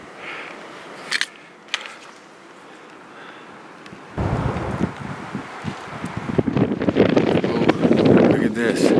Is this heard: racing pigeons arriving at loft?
no